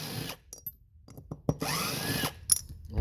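Short bursts of a power tool threading bolt holes in the cylinder area of a Stihl MS 193T chainsaw, close and loud, separated by brief quiet gaps and a few clicks.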